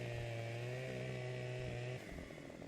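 A chainsaw cuts into a tree in the video game Farming Simulator 2015, a loud steady buzzing drone that drops off near the end as the cut finishes.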